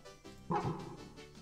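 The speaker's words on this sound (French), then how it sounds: "oh, ça c'est un cri de chien ça." Lillipup's cry from a Pokémon video game, a small dog-like creature: one short synthesized bark with a yip-like, whimpering tail, alone and fairly close.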